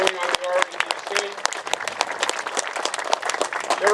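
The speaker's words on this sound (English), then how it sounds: "Let's give him a round of applause for the great work he's been doing on the REDC." An outdoor crowd at a harbor groundbreaking ceremony gives Rob Simpson a steady round of applause, dense and close, with a voice heard over the clapping.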